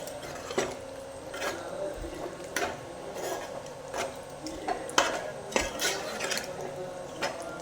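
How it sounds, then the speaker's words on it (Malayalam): A spoon scrapes and clinks against a pot as duck curry is stirred after crushed pepper goes in, with soft, irregular knocks repeating close by over a low background hiss. "അതും ഇട്ട് എല്ലാം കൂടെ ഇട്ട് നമ്മളൊന്ന് ഇളക്കാൻ പോകണം"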